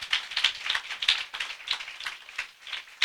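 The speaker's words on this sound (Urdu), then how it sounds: "زوردار تالیاں خدا کے جلال کے لیے" A church congregation applauds loudly in praise, a steady patter of many hands clapping in uneven bursts for about three seconds with no voices over it.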